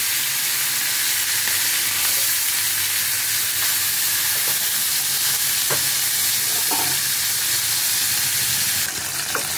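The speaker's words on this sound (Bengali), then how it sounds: "মাছটা একটু ভালো করে ভেজে নেব।" Fish pieces frying in hot oil in a kadai, a steady close sizzle running throughout with occasional stirring clinks and pops, no voices.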